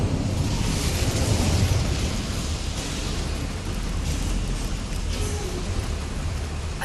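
A fiery blast from the Incendio spell in Hogwarts Legacy, a loud, dense roar of noise that holds steady across the whole stretch with a brief swell early on, no voices over it.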